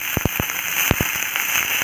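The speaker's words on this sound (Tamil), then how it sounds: "கழுவி கட் பண்ணி வச்சுருக்கிற கருவேப்பிலை, நறுக்கி வச்சுருக்கிற வெங்காயம், இதை நல்லா வதக்குவோம்." Curry leaves and chopped onion sautéing in a pan over a low flame: a steady soft hiss with a few sharp crackles and pops near the start, close and fairly quiet.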